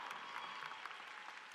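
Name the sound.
applause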